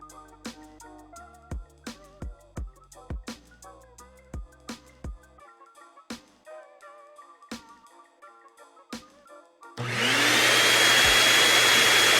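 A vacuum cleaner in an animated series switches on abruptly after a run of plucked musical notes and then holds a loud, steady whooshing roar until the end.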